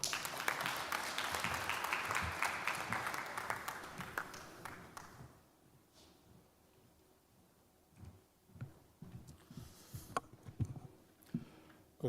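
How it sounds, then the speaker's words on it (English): Applause for a keynote speaker at a foundation conference, faint clapping from a hall audience that fades out over the first five seconds, followed by scattered light taps and thumps. "Word of applause for him"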